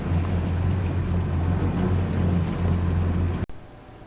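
A 2016 Yamaha 242X jet boat engine runs with a steady low drone and rushing hiss close by, cutting off abruptly near the end.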